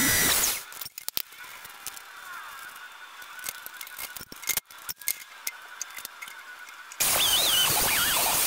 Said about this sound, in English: let's go ahead and get the rest of these holes drilled